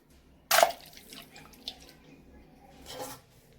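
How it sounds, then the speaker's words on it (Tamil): Water is poured into a thick, sugary juice mixture in a home kitchen, heard as two short splashing bursts a few seconds apart with faint drips and quiet between them. "கொஞ்சம் தண்ணி கூட ஊத்திக்கலாம்"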